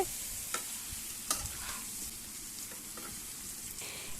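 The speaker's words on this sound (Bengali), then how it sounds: "ওল আর আলুটাকে 3 থেকে 4 মিনিট খুব ভালো করে কষিয়ে নেব।" Yam and potato chunks fry with spices in a pan, a steady close sizzle with scattered scraping strokes and clicks as they are stirred, and no voices.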